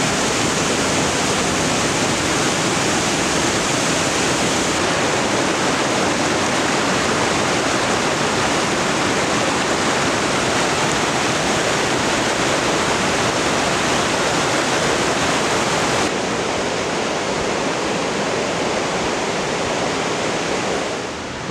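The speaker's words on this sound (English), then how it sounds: "The river's really gorgeous in this stretch." A river in the Brothers Wilderness on the Olympic Peninsula rushes without pause, a loud and even broadband roar of flowing water that holds across the whole stretch with no voices.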